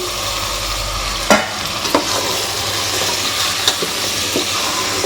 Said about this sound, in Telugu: ఆనియన్స్ అయితే ఫ్రై అయిపోయినాయి ఫ్రెండ్స్ నెక్స్ట్ అయితే చికెన్ అయితే వేసేసుకుంటున్నాం